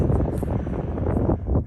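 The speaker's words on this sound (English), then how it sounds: "It is windy today." Gusty wind buffets an outdoor microphone during a blustery park outing for metal detecting, a loud, continuous rough rumble with people talking over it.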